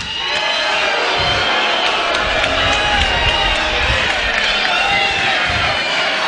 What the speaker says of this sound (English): They're sitting back here right now still cheering for me.